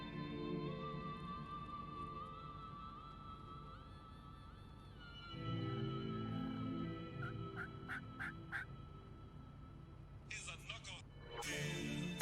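Wild turkey in Alabama gobbling at roosting time, loud and repeated calls ringing out over a droning vehicle engine and occasional talk, with some sharp clicks and a burst of noise near the end.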